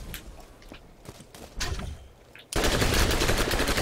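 Turret gunfire in the video game Borderlands, a sudden loud, dense burst of rapid automatic shots erupting after quieter scattered noises and continuing steadily to the end.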